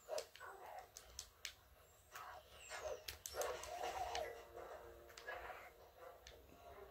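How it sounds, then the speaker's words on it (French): A small pet dog whimpers and yips for affection indoors, faint, intermittent short whines and soft yelps scattered over several seconds among sharp clicks and low background noise. "Il demande de l'affection, mon petit chien."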